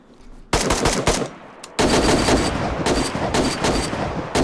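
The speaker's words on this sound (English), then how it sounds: "The gun jammed!" Rapid automatic gunfire in DayZ on the Namalsk map, with loud, close bursts that cut off briefly, then resume in a long sustained volley before sputtering out.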